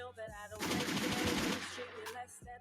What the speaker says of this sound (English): Let me give her some gunshots real quick.